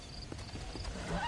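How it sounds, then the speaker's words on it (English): A horse in the Red Dead Redemption video game gives a brief whinny out in the woods, over soft hoof clops and a busy game ambience. "And my horse whinnied."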